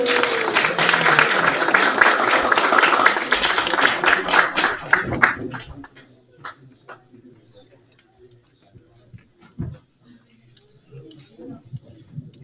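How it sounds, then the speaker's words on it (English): A round of applause from an audience at a devotional initiation ceremony, dense and sustained for several seconds, then thinning into scattered claps and a few faint voices. "Big round of applause for the candidates"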